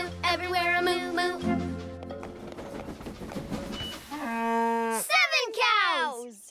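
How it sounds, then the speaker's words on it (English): Several cow-like moos sound one after another, some deep and some higher, mixed with a voice and animated musical background. "There a moo, everywhere a moo-moo."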